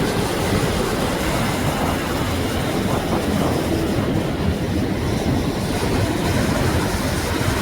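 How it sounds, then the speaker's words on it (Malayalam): Rough, churning sea waves crash against a storm-battered shore lined with houses and sandbags, a loud, continuous roar of surf heard up close without voices. "കടൽ കലങ്ങ് മറിഞ്ഞ് കിടക്കുക"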